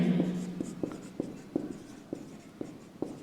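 Chalk or marker taps and short strokes on a board during a Class 10 mathematics lecture, about eight sharp evenly spaced clicks over a quiet room, with a brief voice at the start.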